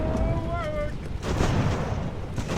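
Dense rumbling musket volleys and booming cannon fire fill the clip continuously in an Age of Sail naval battle video game, with a brief tonal whine early on.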